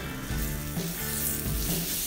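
Asado beef sizzles steadily on a grill, a dense close crackling hiss with a couple of brief shifts as the meat is turned.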